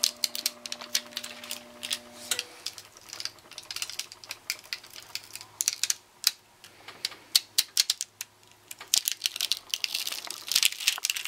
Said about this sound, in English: it's really easy to peel off this clear film